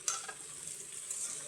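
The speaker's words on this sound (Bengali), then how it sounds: "বড়াগুলো উল্টে দিলাম।" Banana flower fritters frying in hot oil give a steady soft sizzle with a few brief crackles near the start, close and even throughout.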